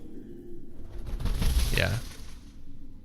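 A bird calls once with a soft, pigeon-like coo in the video game Pillars of the Earth, set in a medieval world, heard over low ambient background.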